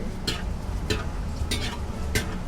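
Sweet potato balls fry in Barco-brand oil, giving a steady sizzle with a few sharp scraping or stirring clicks at regular intervals.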